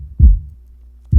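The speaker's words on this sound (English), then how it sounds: "Let me just go ahead and solo the low end kick." A soloed low-end kick drum sample thumps twice, deep and heavy, with a short boomy decay between hits and nothing else around it.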